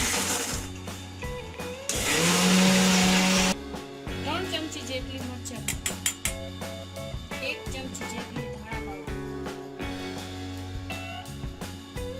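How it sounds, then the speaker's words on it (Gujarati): A kitchen mixer grinder whirs loudly for a short burst while grinding coriander with whole garlic cloves, then stops, leaving steady background music. "અડધી વાટી જેટલા ધાણા આખા લસણ સાથે મિક્સ કરી પીસી લેવું"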